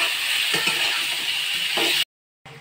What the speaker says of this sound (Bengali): আলুটা লাল করে ভেজে নেব